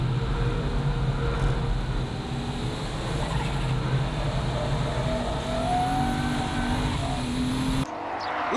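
Tuned Toyota Chaser JZX100 drifting at Tsukuba circuit, a loud continuous engine roar with shifting pitch and tire noise throughout, cutting out abruptly near the end.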